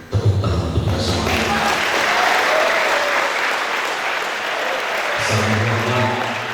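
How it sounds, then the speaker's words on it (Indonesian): An audience at a spiritual motivation talk breaks into loud, sustained applause that fills the room for several seconds, with a voice speaking briefly at the start and end. "Tepuk tangan untuk kita semua."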